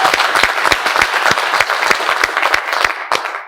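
Studio audience at a televised sports show applauding, a dense burst of rapid close clapping that carries on evenly for a few seconds, then fades out at the end.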